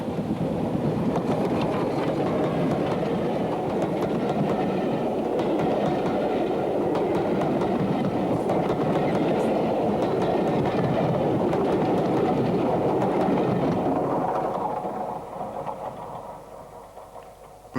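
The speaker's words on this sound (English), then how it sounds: "This engine has spent its preserved career on the North Yorkshire Moors Railway" An LMS Black 5 steam locomotive, number 45428, running on the North Yorkshire Moors Railway, a loud continuous rumble and clatter that holds steady, then fades away at the end.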